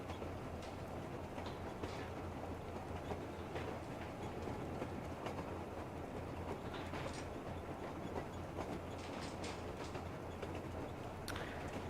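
Train ride in the post-apocalyptic shooter Metro Exodus, a steady low rumble of a moving train with faint rhythmic clatter of wheels on rails, continuous and even, with no talking.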